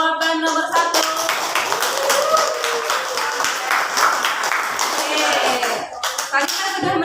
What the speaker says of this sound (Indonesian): Oke, kasih aplaus untuk jawaban nomor 1.